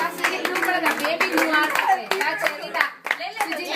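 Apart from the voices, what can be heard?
group clapping hands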